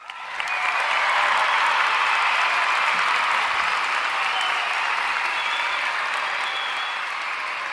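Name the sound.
audience applause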